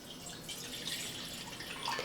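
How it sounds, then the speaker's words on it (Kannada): Water is poured from a glass into a cooking pot and heated for making rice-flour roti dough. It gives a steady, moderately close splashing trickle that lasts the whole stretch. "ಈಗ 1 ಗ್ಲಾಸ್ನಷ್ಟು ನೀರು ಹಾಕ್ತೀನಿ ರೀ."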